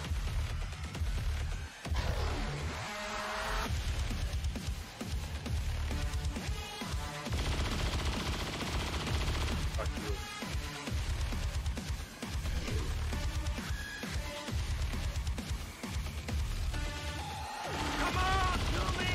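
Gunfire in the XCOM 2: War of the Chosen video game, repeated sharp shots and machine-gun bursts with crashes scattered through, mid-level, mixed with game sounds and occasional talk.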